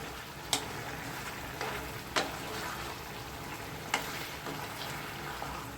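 Onion, garlic and whole green chillies fry in a pan for a vegetable chicken curry, giving a soft, steady sizzle with a few sharp clicks from stirring, fairly faint and close.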